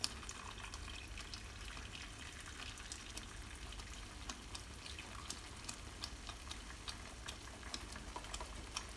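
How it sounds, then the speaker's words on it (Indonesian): Tamarind water poured into gado gado peanut sauce, a steady faint liquid trickle and splash running continuously at low level with no talk. "Tambahkan air asam jawa."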